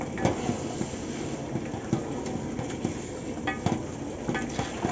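Beef being stirred into biryani masala in a pan, a soft, steady rumble of mixing with irregular scrapes and knocks of the spoon against the metal, moderately quiet and close, with no talk.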